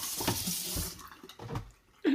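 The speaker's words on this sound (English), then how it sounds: "you're going to give this a really good rinse" Tap water runs and splashes over basil leaves being rinsed in a sink, a close, steady gush with shifting splatter and a brief louder surge at the end.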